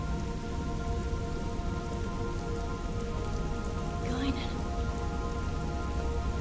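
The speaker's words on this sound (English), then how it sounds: "I always like scenes with rain" Steady rain in the video game Xenosaga Episode I patters on a surface throughout, a constant hissing wash with a faint chirp briefly rising in the middle.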